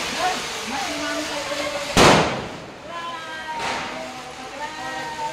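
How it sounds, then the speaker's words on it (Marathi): Two loud bursts of Diwali firecrackers a couple of seconds apart, the first sharper, with a voice and people talking around them. "फटाके वाजवायला जाऊयात आपण आता."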